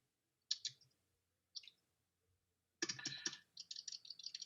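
Bursts of keyboard typing on a computer, a few short keystroke clusters followed by a denser run of rapid clicks, fairly close and clear with no voices.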